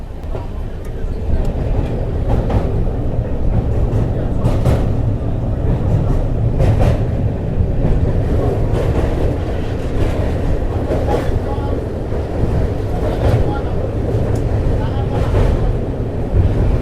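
A passenger train running slowly on the Krishnanagar to Azimganj line, heard from on board as a steady loud rumble with rhythmic clattering of wheels on rail joints, while someone talks over it.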